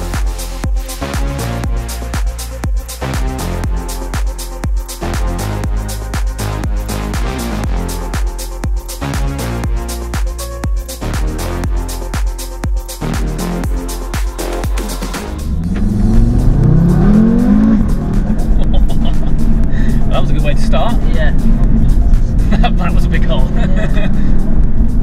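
A 500bhp ABT-tuned Audi RS3 drives and accelerates, with its engine note rising in pitch through a rev run and turning into a heavier, louder roar partway through, close and dominant, over steady road and cabin noise.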